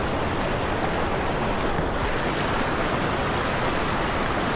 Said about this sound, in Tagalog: Lakas ng agos eh.